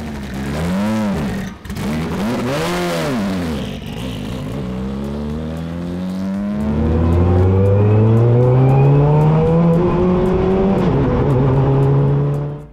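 K24-engined Ferrari race car accelerating under turbo boost, loud close engine with repeated rev sweeps through the gears, pitch climbing steadily as the turbo comes on strong.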